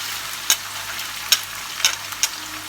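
Potatoes and tomatoes dropped into hot oil with cumin, bay leaf and dried chilli, a steady sizzle broken by several sharp spatula scrapes and stirs, close by with no talking.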